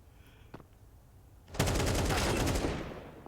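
Mag 7 shotgun blasts in Counter-Strike during a professional Inferno match, a sudden loud burst of rapid gunfire cutting in after a quiet stretch with a small thump, continuing densely to the end.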